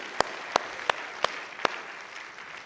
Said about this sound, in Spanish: un fuerte aplauso a Él